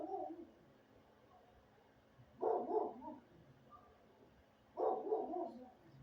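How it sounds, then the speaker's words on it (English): Dogs barking in the distance, two short bursts of barks separated by quiet stretches. "It's a bunch of dogs barking."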